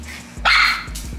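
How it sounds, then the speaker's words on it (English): A single sharp dog bark rings out close by, a short loud burst standing alone against low background hum, with no other voices. "She don't bark with nobody else."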